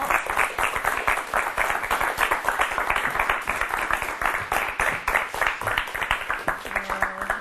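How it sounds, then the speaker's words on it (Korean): Steady applause from a studio audience greets a military history researcher as he is introduced for a talk on wartime leadership, dense continuous clapping holding at an even level for several seconds. "박수로 맞아주시기 바랍니다."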